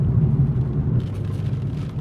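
A steady, low BMW M240i engine rumble idles close by, deep and even, with a slight rise in texture partway through and no voices.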